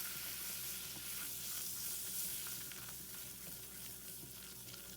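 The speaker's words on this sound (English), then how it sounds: "So you whisk in the flour." Flour is whisked into a rarebit sauce in a hot pan, giving a steady, faint bubbling sizzle with light, rapid stirring texture throughout.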